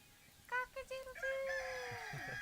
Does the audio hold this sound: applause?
no